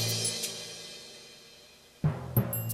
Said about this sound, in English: So I've got some crash cymbals, some triangles.